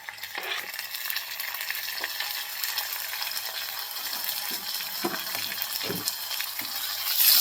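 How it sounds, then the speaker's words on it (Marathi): Chopped tomato frying with onion in a pan for a spicy Maharashtrian chilli kharvanga, giving a steady soft sizzle with occasional scrapes and stirring knocks from a spoon, close by, with no talking. "टोमॅटो पण भाजून घ्यायचा आहे कांद्याबरोबर मस्त असा मऊ होईपर्यंत"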